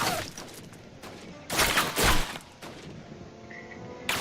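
Enemy gunfire in the Call of Duty Classic game, with several sharp shots and bursts in the middle, strongest around the halfway point, set over a steady low game ambience with no talk.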